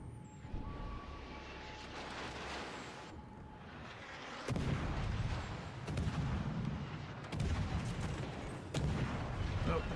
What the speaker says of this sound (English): Oh, and Hector's shooting me now.